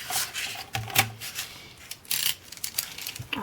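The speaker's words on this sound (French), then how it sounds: "tout le rectangle qu'il y aura là, on va le découper avec un cutter" A utility knife slices through paper while a Christmas-themed scrapbook album is being made. The scratchy cutting strokes come in short, uneven bursts, quiet and close up, with faint rustling between them.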